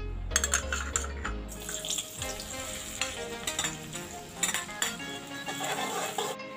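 Onion and green chili drop into hot oil in a pan, setting off a loud, close, crackling sizzle with stirring clatter throughout and no talk.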